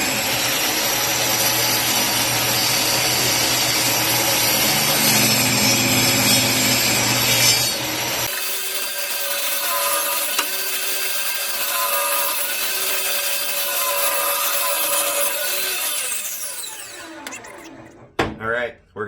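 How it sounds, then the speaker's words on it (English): A table saw rips fence picket boards, with a loud, harsh cutting roar for the first several seconds, then the blade whining on as it spins freely before winding down, a few knocks at the end. "We're going to head over to the table saw and rip those all down to 2 5/8, which is half the size of the fence picket."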